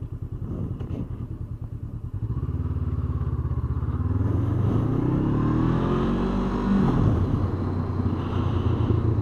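A Honda CB500F motorcycle engine pulls away and accelerates, a loud, close rumbling drone that rises in pitch as the bike gathers speed, with no one talking.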